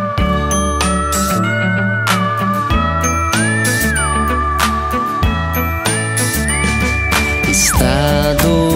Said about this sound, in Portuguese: Os sinos a tocar, din, din.